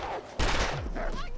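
A sudden burst of loud gunfire in the video game The Long Dark breaks in after a quieter moment, sharp reports blending into a dense rattle with a voice faintly underneath.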